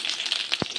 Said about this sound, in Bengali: মাছে নুন হলুদ দিয়ে মাখিয়ে মাছটা ভেজে নিলাম।